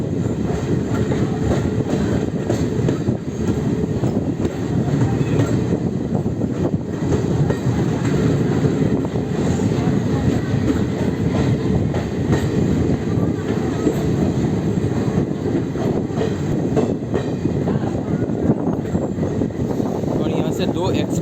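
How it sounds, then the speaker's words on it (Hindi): Express trains cross on the railway with a continuous loud rumble of wagons and rail clatter, heard close and steady throughout, with some voices mixed in. "दो एक्सप्रेस ट्रेन क्रॉस होती है।"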